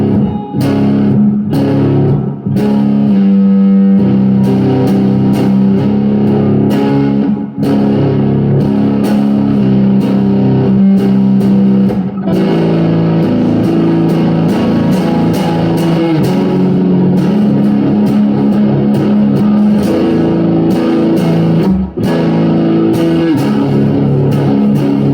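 A PRS SE Mark Holcomb signature electric guitar in blue burst plays through a thick, doomy fuzz tone, loud and sustained, with chugging riffs and ringing held chords and no talking.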